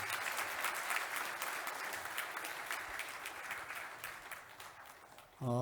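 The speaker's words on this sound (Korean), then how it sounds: "박수로 축하해 주시기 바랍니다" A church congregation claps steadily for an award recipient, an even mid-level ovation that continues for several seconds before a voice cuts in abruptly at the end.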